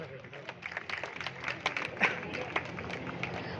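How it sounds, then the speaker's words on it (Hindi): An audience claps, a dense patter of many hands at moderate distance that swells and holds through the moment, with a voice speaking faintly underneath. "ताली बजाओ"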